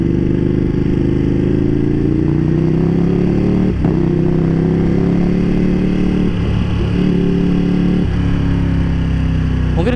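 A Ducati Panigale V2 motorcycle engine runs close and loud, holding a steady, throbbing mid-pitched drone with a few small throttle blips and clatters throughout.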